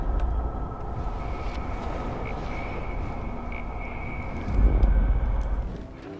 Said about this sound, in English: I have to focus on making sure this drone doesn't crash.